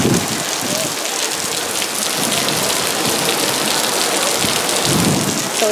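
Heavy rain pours steadily at a beach resort in the Yucatan, a dense close hiss of drops on surfaces with low rumbling thunder mixed in, continuous throughout.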